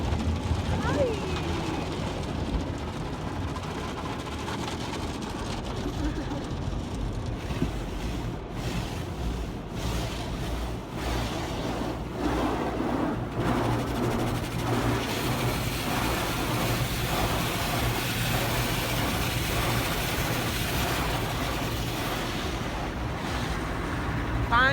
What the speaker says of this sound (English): Finally, we were long overdue for our car wash.